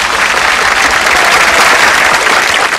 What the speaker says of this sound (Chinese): 来来来，掌声啊